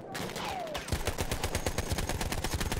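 Madsen machine gun firing in Battlefield 1, a fast, even stream of sharp shots running for about two seconds after a short lead-in, loud and close.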